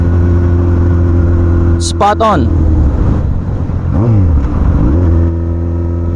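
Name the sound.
Yamaha YZF R1 motorcycle engine revving as throttle twisted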